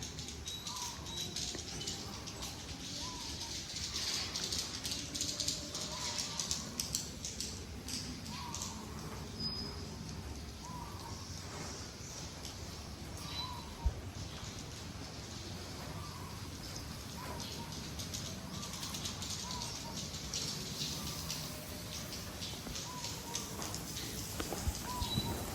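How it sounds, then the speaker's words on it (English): Pigeons or doves coo repeatedly, soft and moderately distant, inside a house under construction, over a steady hiss like light rain and ambient noise. "Some of the bird enter in the building."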